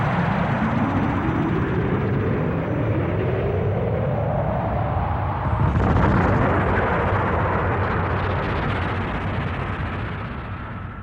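Spaceship engines power up for takeoff in a French animated space-pirate series: a loud, continuous roar with a whine rising steadily in pitch, swelling into a fuller burst around midway before slowly easing off.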